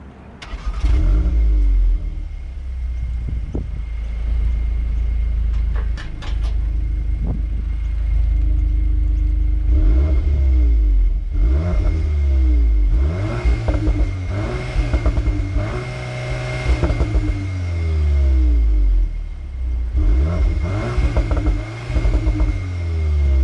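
A Volkswagen T-Roc R engine starting and then revving repeatedly, loud deep blips rising and falling in quick succession, heard up close with a steady idle between revs.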